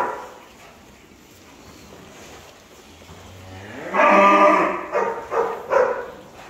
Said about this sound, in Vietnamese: Bò 3B rất là đẹp cả nhà nhé